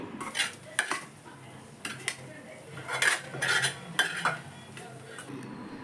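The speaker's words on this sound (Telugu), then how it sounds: "మొత్తం రైస్ అంతా వేసుకున్న తర్వాత గరిటితో రైస్ అంతా ఇలా అడ్జస్ట్ చేసుకోవాలండి" Ladle scraping and clinking against a biryani pot while spreading rice and chicken pieces, a steady run of close metallic scrapes and knocks with short louder bursts, no talk.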